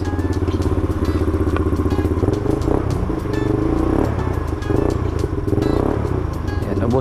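A 200cc ATV engine idles steadily and loudly up close, a continuous rough mechanical drone with some clattering and thumping throughout.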